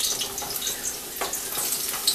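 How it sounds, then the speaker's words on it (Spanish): Chopped onion frying in hot oil for chile verde, giving a steady bright crackling sizzle with small pops, close and continuous, with no talking. "voy a empezar a poner a dorar la cebolla"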